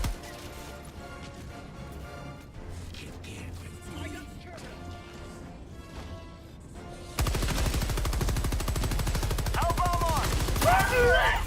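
Gunfire in the Fallout video game, with loud, dense bursts of rapid automatic shots and sharp cracks that suddenly fill the second half after a quieter stretch of game sounds.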